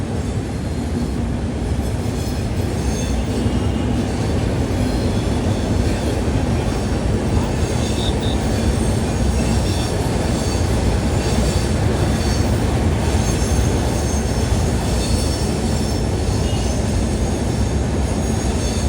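A train crossing the Godavari road-cum-rail bridge on the Rajahmundry to Visakhapatnam line, with a loud, continuous roar of wheels and a steady clickety-clack close by, no talking.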